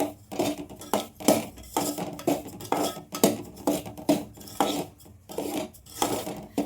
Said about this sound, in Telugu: చేసేంతసేపు కూడా రవ్వని కలుపుకుంటూనే ఉండాలి